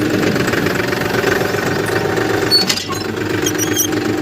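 Old tractor engine running during a hydraulics check, a loud, steady knocking idle with a rhythmic mechanical chug and a brief metallic clatter near the end.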